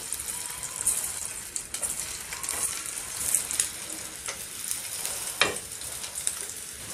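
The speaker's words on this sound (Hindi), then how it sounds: "दो पैनों पे कोफ्ते फ्राई कर रही हूँ" Mutton koftas fry in hot oil in two pans side by side, making a continuous crackling sizzle with scattered sharper pops and spatters throughout, with no voices over it.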